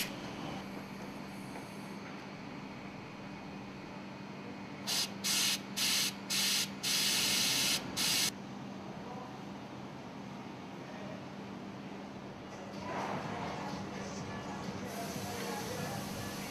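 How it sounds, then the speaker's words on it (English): Compressed air blasts clean the air cylinder of a marine MC/ME engine exhaust valve during overhaul. Several short sharp hisses sound in a quick series over a low steady workshop hum, with a softer rush of air near the end. "Clean the air cylinder with compressed air."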